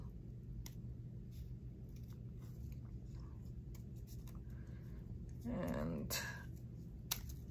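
Scissors snip through paper while music-paper doilies are being made, a series of soft close cuts and rustles with a brief word spoken partway through.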